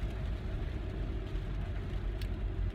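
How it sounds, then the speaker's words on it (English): Steady road traffic on a wet winter day with several cars going by during the holiday shopping season, giving a continuous low, close rumble of engines and tires without clear individual passes. "oh my goodness, look at all these cars"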